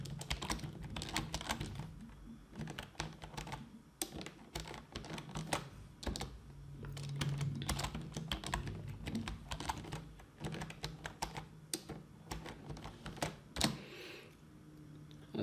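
Keys clatter on a computer keyboard as a password is typed, a quick irregular run of close, crisp clicks with short pauses, and no talking.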